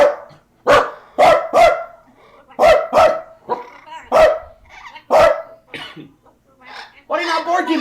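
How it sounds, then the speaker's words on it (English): Pet dogs bark in several sharp, repeated bursts at close range, each bark standing clear with short gaps between, while people talk around them. "Some of them bark too because the dogs are at home"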